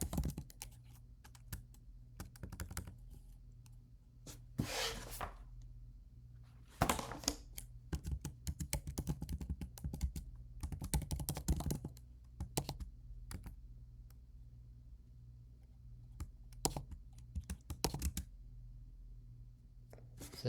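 Typing on a computer keyboard, close and fairly quiet, with irregular bursts of key clicks separated by pauses.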